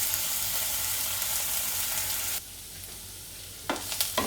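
Onions with ginger garlic paste sizzling loudly in a pan for veg keema masala, a steady hiss that drops sharply partway through, then a few stirring scrapes and clinks near the end; no talking.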